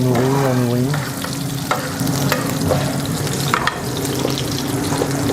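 Dry-aged beef sears in butter in a hot pan while being basted, giving a loud, steady sizzle with spoon scrapes and clinks over it.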